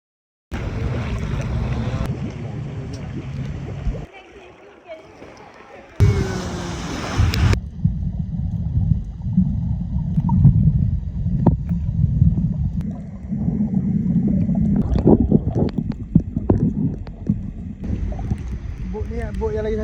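A boat at sea off Mersing rumbles with a steady engine drone and rushing water and wind, loud and close, cutting in and out in sections while people talk over it.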